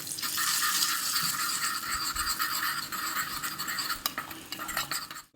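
A spoon scrapes and stirs continuously in a pan as whole fried garlic is mixed into a masoor dal and egg tadka, a busy scratching rhythm heard close up with no talk.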